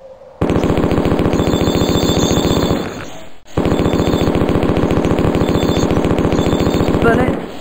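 Uzi 9mm fire in the 1995 DOS first-person shooter Mortal Coil sounds as loud, rapid, continuous automatic bursts, one long burst breaking off briefly before another sustained stream of shots resumes.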